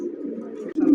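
A female pigeon gives a single short, low coo up close, loud and clear for about a second.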